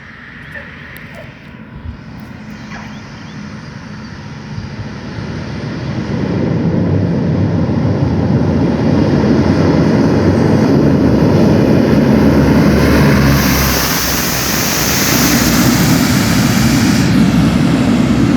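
A C-130 military transport plane landing on the runway at Jolo, Sulu, its engine roar building from a distant drone to a loud, sustained rush and staying steady to the end.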